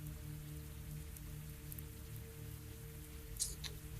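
Rain falls in the Cataclysm DDA video game, a soft, steady patter with a few brighter drops, faint and continuous throughout.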